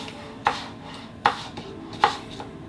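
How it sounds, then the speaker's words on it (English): A kitchen knife cuts through apple slices on a board in three sharp, evenly spaced knocks, close and clear over a quiet room with no talking. "so that's cutting up your apple"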